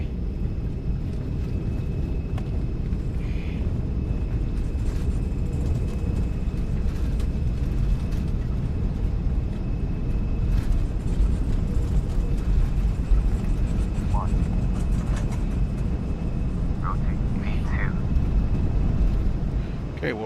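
An Embraer E175 in Horizon Air regional livery rolls down the runway for takeoff in the X-Plane 12 flight simulator, a loud, constant low engine rumble with occasional voices speaking over it.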